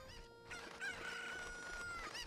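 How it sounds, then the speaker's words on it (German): A chicken in the video game The Legend of Zelda: Ocarina of Time crows once, a drawn-out cock-a-doodle-doo with clucky edges, clear and close, over a faint game background. "jetzt haben wir die Möglichkeit, alle Hühner zu bekommen"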